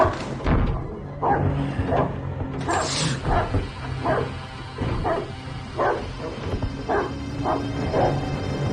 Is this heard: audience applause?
no